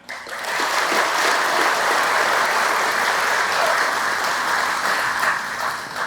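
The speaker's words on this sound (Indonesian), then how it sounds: "Tepuk tangan." Sustained applause from a large audience at a ceremony installing a leader of a community militia in Banten, Indonesia, dense clapping rising quickly and holding steady and loud for several seconds with no speech over it.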